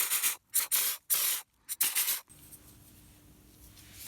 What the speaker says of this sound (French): ensuite le pistolet, tout simplement vous appuyez, ça va vider le thinner et ça va se nettoyer en même temps